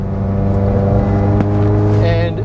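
A modified Alfa Romeo 4C Spider drones loudly and steadily from its exhaust while driving, a deep continuous engine rumble with a brief higher whine near the end.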